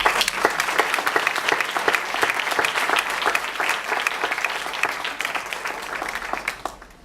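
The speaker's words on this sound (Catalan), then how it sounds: "un fort aplaudiment." Sustained applause from the audience at a local party meeting, a dense and steady round of clapping that fades out over the final second.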